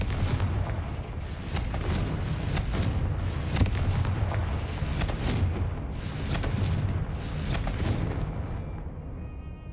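Repeated fiery blasts from the Confringo spell in Hogwarts Legacy, a run of loud booming explosions several seconds apart over a constant rumbling game backdrop.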